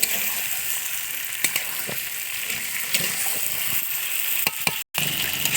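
Chicken sizzles and fries in a pan in a home kitchen, a steady loud crackle with occasional stirring scrapes, briefly cutting out near the end.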